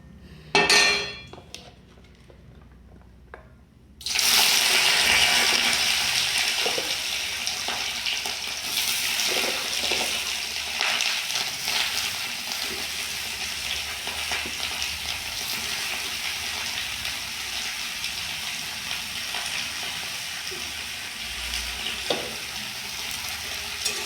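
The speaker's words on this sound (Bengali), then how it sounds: "অল্প করে গোটা জিরে, দেখবে কোনো তরকারি যদি এখন ফোড়ন দেওয়া হয়" Whole cumin seeds tempered in hot oil, then mixed vegetables frying in a pan: after a few quiet seconds with faint clinks, a loud sudden sizzle bursts out and settles into steady close frying with occasional utensil taps.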